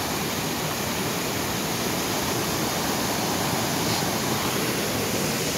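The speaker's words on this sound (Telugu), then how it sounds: "అంటే ఇదే గండహతి వాటర్ ఫాల్ అంటే ఇదేని" Gandahati waterfall in Gajapati district, Odisha, roars as a dense, constant rush of falling water, loud and close with no other sounds.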